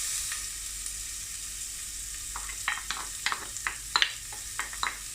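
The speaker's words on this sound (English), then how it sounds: "Once your oil is hot," Onions sizzle in hot oil with a soft steady hiss, broken by a series of sharper crackles and pops as they are stirred in the pan.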